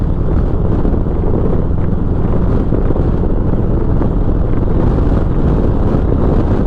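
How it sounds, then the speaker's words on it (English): Loud, constant wind buffeting a microphone on a motorcycle fitted with a Memphis Shades Road Warrior fairing, a dense roaring rumble with no letup. "It is very windy today"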